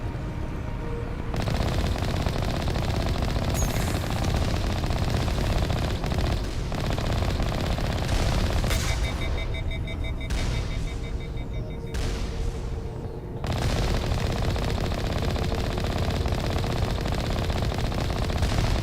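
Turrets in the Mass Effect video game fire sustained automatic gunfire, loud and continuous rattling bursts that fill the scene with brief lulls in between and no voices over them.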